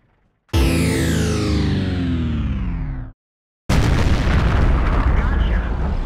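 A KV-2 tank's heavy cannon firing in World of Tanks, one loud booming shot with a long descending roar that cuts off abruptly, followed after a short silence by a second dense, crackling explosion that continues to the end.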